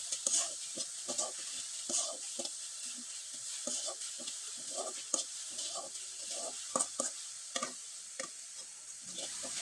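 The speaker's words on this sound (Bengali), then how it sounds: "আর নারকেল কোড়ানোটা দেওয়ার পরে খুব ভালোভাবে নেড়েচেড়ে পুরটা তৈরি করে নিতে হবে।" Grated coconut filling stirred in a pan gives quiet, irregular scraping strokes over a steady soft sizzle, close up, with no voices.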